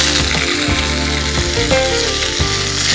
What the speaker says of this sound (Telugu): టొమాటోస్ కూడా మనం ఎక్కువ ఫ్రై చేసుకోకలేదు, లైట్ గా షాలో ఫ్రై చేసుకుంటే సరిపోద్ది